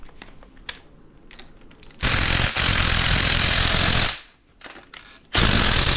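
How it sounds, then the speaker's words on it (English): An impact wrench rattles loudly in two long bursts while undoing the strut top nut on a Holden Captiva's front suspension, after a few light clicks and taps, with a short pause between the bursts. "So I'm going to undo this nut here that holds the top hat on."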